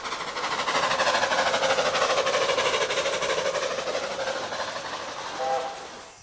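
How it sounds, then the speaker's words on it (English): Steam locomotive on the Ravenglass & Eskdale Railway working hard up the final climb through Beckford Wood toward Dalegarth Station, with rapid rhythmic chuffing and rail clatter that fades slightly before a brief whistle-like tone near the end. "Steaming well on the final climb in Beckford Wood before crossing Whillan Beck itself and arriving at Dalegarth Station"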